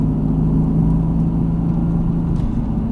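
A Mercedes-AMG GT S on a race track under hard throttle, a loud steady engine drone with a low rumble, heard from close by inside the car.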